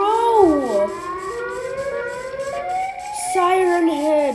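A Siren Head monster in Minecraft wails, its siren rising and falling in pitch, loud and near, sweeping through several long, eerie tones.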